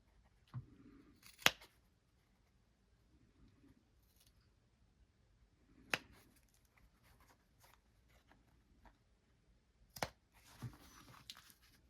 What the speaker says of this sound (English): I'm going to take out these corners and trim those down so they turn kind of pointy